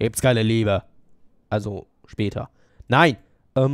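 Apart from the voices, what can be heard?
No everyday noises stand out.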